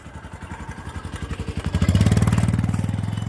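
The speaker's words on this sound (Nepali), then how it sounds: "बाइकहरू पनि चल्दो रहेछ यहाँ" A motorbike engine approaches with a throbbing, pulsing beat that grows louder, peaks close by, then holds a steady rumble as it rides past.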